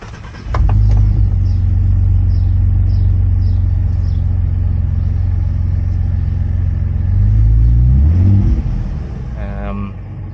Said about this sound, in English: So let's give her a crank.